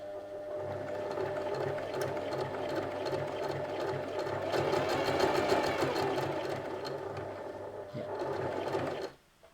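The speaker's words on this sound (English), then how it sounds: "you're going to push down really gently on that foot pedal and the machine is going to start moving" A sewing machine driven by a foot pedal stitches steadily, its rapid mechanical needle clatter speeding up slightly mid-run, close and moderately loud before stopping abruptly at the end.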